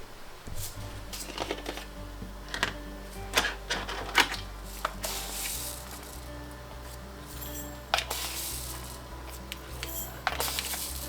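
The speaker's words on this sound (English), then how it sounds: "now we are going to add 1 teaspoon of mustard seeds into each jar" Mustard seeds, a teaspoon at a time, are poured into glass pickle jars, making a series of light rattling clicks and tapping bursts against the glass, fairly close and with no speech.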